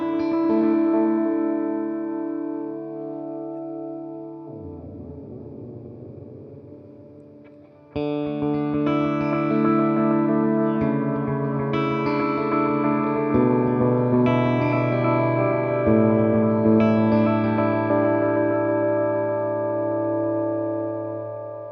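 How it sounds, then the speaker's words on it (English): Electric guitar through an EarthQuaker Devices Disaster Transport SR delay pedal set to a 600 ms delay, sustained chords and struck notes with long repeating echoes trailing off, a pause in the middle, then more strummed chords ringing with layered repeats. "now I'll let you hear the full length of the 600 milliseconds on the delay A."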